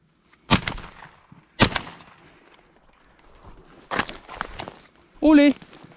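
Shotgun shots fired while hunting thrushes with number 9 pellets: a few sharp reports spaced a second or more apart, outdoors at moderate distance, with a short voiced exclamation near the end.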